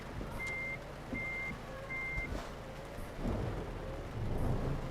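Rain and rolling thunder sound in Euro Truck Simulator 2, beneath repeated reversing beeps from a truck and a low engine hum, all fairly faint.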